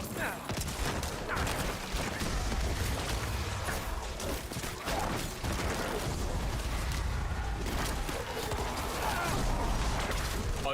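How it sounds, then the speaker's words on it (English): Corpse explosion attacks in Diablo IV, a dense run of booming, crackling blasts layered over constant game noise, loud and continuous with voices talking underneath. "Yes, the corpse explosion's fun."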